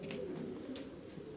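A Maltese fancy pigeon, an Italian breed, cooing softly up close, low steady murmuring with a few faint bird chirps above.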